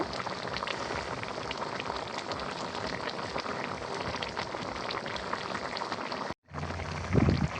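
Tilapia curry with papaya bubbling in a pot, a steady loud sizzling and boiling hiss that runs throughout, broken by a brief cut near the end.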